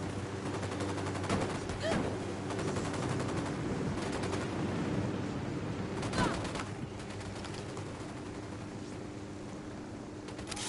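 Ghost Recon Wildlands: dense, continuous gunfire with a few sharper cracks standing out above a constant noisy battle background, heard for several seconds without a clear break.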